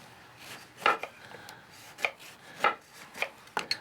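A knife cuts through a lemon on a cutting board in a kitchen, several soft, irregular slicing taps close by with quiet pauses between them and no speech.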